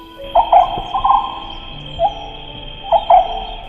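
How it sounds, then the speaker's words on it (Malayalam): A few short bird calls ring out in separate bursts, clustered near the start and again toward the end, over a faint steady background hum. "സാറിൻ്റെ പുസ്തകത്തിലുള്ള പക്ഷികളുടെ ശബ്ദങ്ങൾ തന്നെയാണ് ഈ ബാക്ക്ഗ്രൗണ്ടിൽ കേൾക്കുന്നത്"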